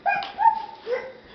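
A voice imitates a dog, giving two or three short, high, whiny yipping barks close up, with no other sounds around them.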